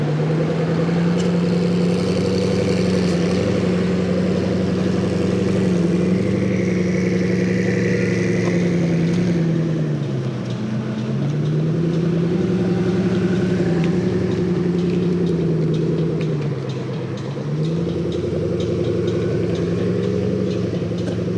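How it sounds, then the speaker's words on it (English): Koenigsegg supercar rolling back into a night car meet in Tokyo, its engine droning steadily at close range, with pitch dipping and rising as it eases off and revs again over about twenty seconds, no talk. "Koenigsegg. What an insane car."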